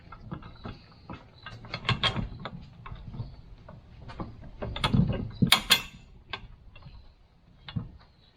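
Metal parts of a Thule bike rack being fitted on a fifth-wheel hitch bracket as a square-ended bolt slides in, with scattered clicks, rattles and sharp metallic clacks, close and irregular with no talking.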